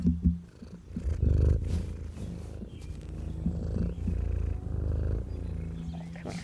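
A house cat purrs close up for several seconds, a steady, rhythmic low rumble with soft pulsing breaths and no talking.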